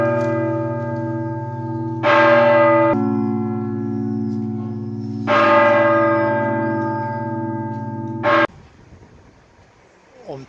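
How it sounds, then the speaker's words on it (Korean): Cathedral bells in Bari, Italy ring loud and close, long resonant tolls with new strikes at intervals and a lingering hum, cut off near the end by brief background noise. "마침 성당에서 종소리가 나오네"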